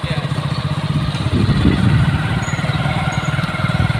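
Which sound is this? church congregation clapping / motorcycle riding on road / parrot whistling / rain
motorcycle riding on road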